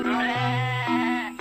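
Goat bleating, a single loud, close, wavering bleat lasting over a second, its pitch shifting partway through.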